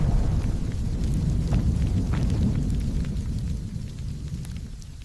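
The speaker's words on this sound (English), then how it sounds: "Thunder rolled, and the hail came down." A deep, continuous rumble of thunder with steady hard rain or hail pelting down, loud throughout and easing slightly toward the end.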